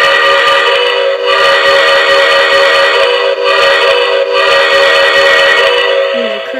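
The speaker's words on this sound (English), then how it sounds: "Here's the sound, here's the whistle." Rio Grande train engine whistle blowing loud and sustained, a rich multi-tone chord held for several seconds with brief dips between blasts, no voices.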